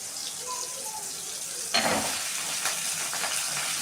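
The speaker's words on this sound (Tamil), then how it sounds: "கருவேப்பிலையும் கத்திரிக்காவும் போட்டு நல்லா வதக்கி விடுறோம்" Chopped eggplant and curry leaves drop into a hot pan with a sudden sizzle partway through, then fry with a steady crackle and faint stirring scrapes. A quiet hiss comes before the sizzle.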